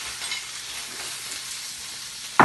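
Beef and root vegetables frying in a pan give a steady, soft hissing sizzle throughout, ending with a brief louder clatter or stir near the end.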